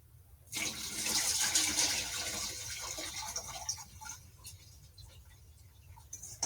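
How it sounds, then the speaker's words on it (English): Water drains from a cooking pot into a kitchen sink with a sudden loud gushing pour that tapers off into trickles and drips over a few seconds. "Okay, I'm going to drain the water."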